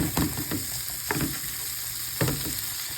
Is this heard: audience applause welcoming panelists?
no